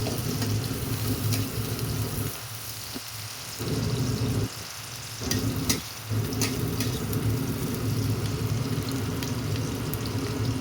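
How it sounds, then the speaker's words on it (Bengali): Onions softening in a hot pan for a pasta dish give off a steady, dense sizzle with a few brief dips in the middle. No one speaks. "একটু হালকা করে পেঁয়াজটা একটুখানি নরম করে নিই ভেজে"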